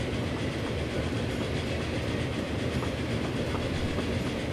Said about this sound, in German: jetzt fahren wir mal langsam in den Bahnhof mit 65.